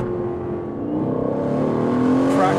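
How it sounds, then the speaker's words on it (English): New Aston Martin Vantage with AMG power, its engine revving loudly in track mode, the pitch climbing steadily with a rising harmonic whine as the revs build. "Track mode is really loud."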